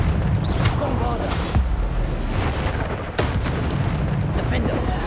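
Repeated explosive booms from the Bombarda blasting spell in the fantasy game Hogwarts Legacy, dense and loud, with a sharp burst near the middle and another past three seconds. A voice speaks over the din throughout.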